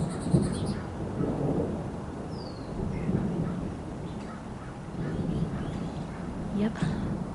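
Low rumbling thunder from a nearby electrical storm rolls on continuously with rain noise, heard from under a roof while someone talks over it.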